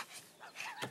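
A wild robot dog in LazyTown gives short yips and whimpering barks, a few quick sounds close by with no talk over them.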